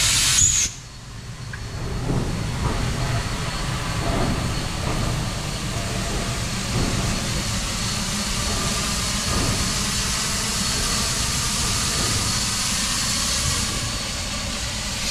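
Steam locomotive 4449 rolling past as a train, a loud, steady rumble and broad hiss that holds evenly for the whole stretch without a break.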